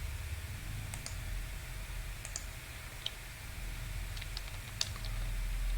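A handful of sparse, faint keystrokes on a computer keyboard over a quiet room hiss, clicks spaced irregularly a second or so apart.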